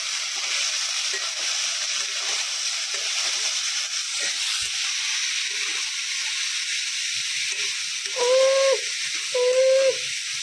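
Peas frying in a pan give a steady, even hiss. Near the end, two short tonal beeps sound over it.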